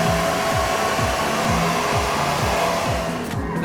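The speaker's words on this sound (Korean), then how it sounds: "짧은 머리 역시 드라이기로 어떻게 말리느냐가 가장 중요하거든요" A hair dryer blows with a steady whirring roar, its pitch wavering in a regular rhythm as it moves, close and loud with no talking.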